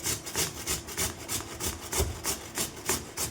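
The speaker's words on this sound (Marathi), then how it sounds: "तर किसणीच्या सहाय्याने मी किसून घेते" Potato being grated by hand on a metal grater for fasting sabudana-potato papad, a steady rhythmic rasping of about a dozen close strokes, each a short scraping burst, with no talk.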